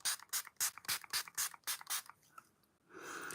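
Revolution Pore Minimising face spray pumped in a quick run of about a dozen sharp, hissing misting bursts, close and fairly loud, trailing into quieter rustling and a soft sustained hiss.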